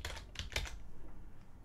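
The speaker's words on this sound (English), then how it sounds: "And you start typing" A quick burst of keystrokes on a computer keyboard, close and crisp, with a few rapid clicks and then quiet. No one speaks.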